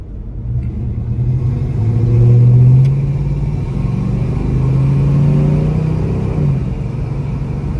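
A 1970 Pontiac LeMans engine with dual imitation Flowmaster exhausts revs up close and loud, a deep throaty rumble that rises twice and settles back to idle.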